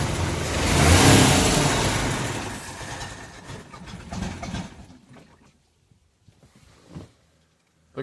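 A stalling boat engine is throttled up. A loud, rough roar builds, then fades over several seconds and dies to quiet, leaving a few faint knocks.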